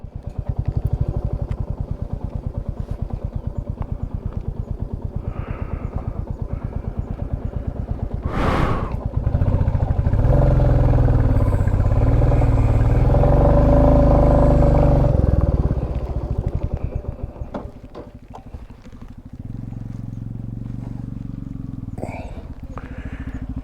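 A motorcycle engine idles and revs on a hill road in Himachal, a close rumbling putter that swells louder midway before settling back, with voices talking over parts of it.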